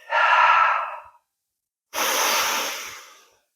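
Two slow, deliberate breaths in a breathing exercise for energy flow, each lasting about a second, close and clear with a pause between them and no talking.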